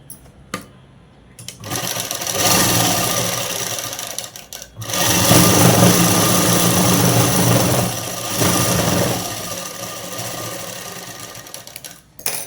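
A sewing machine stitches the lining of a child's dress in bursts, running for a few seconds, pausing, then buzzing again in a long, steady run before stopping, close and loud with no talking.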